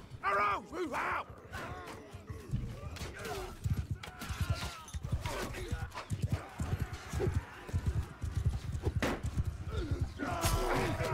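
Cavalry horses gallop in a Mount & Blade 2: Bannerlord battle, with a steady, busy clatter of hooves and occasional whinnies throughout the fight; no one speaks.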